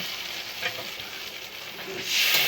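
Hot water pouring into spice paste frying in a pan for a thin fish curry, a steady close sizzle and bubbling hiss that swells louder near the end.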